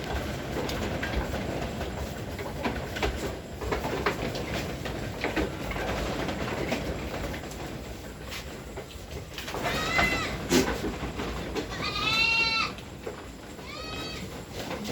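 Goats on a farm raised on TMR feed bleat a few times near the end, short wavering calls rising over a steady, noisy background of farm ambience.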